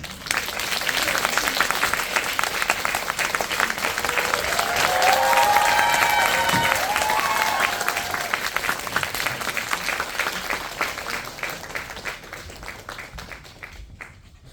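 An audience at a 20th-anniversary guest-visit screening of A Tale of Two Sisters applauds director Kim Jee-woon and actress Im Soo-jung. Dense, sustained clapping fills the hall at full volume, with a few faint tonal sounds mid-way, and slowly tapers at the end.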